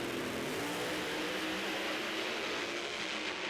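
Pro Modified drag racing cars at the NHRA finals in Las Vegas roar in a dense, sustained engine blast, loud and steady throughout with no voices over it.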